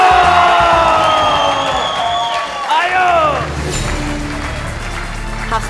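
A game show studio audience cheers and whoops over a win, with loud crowd shouts and rising voices filling the stretch while a host's voice mixes in.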